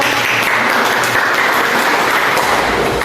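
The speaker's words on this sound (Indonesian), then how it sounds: "Kita berikan aplaus untuk kelompok." A classroom group gives steady, dense clapping for a student group that has just presented. The applause stays loud and even throughout, with barely any voices beneath it.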